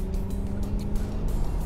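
A Chevrolet C8 Corvette running an E85 tune drives along a road, its engine a steady low drone with broadband road and wind rush throughout, close and continuous without talk.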